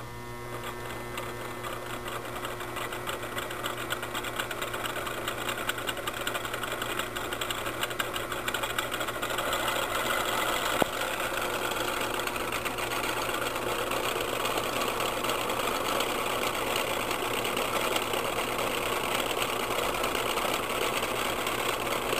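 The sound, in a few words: homemade three-phase AC motor running on a power supply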